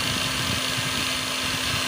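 Nagawa NCG45U cordless brushless grinder spinning at its lowest speed setting, about 4700 RPM, giving a steady, continuous motor whine and hum with no pauses, loud and close.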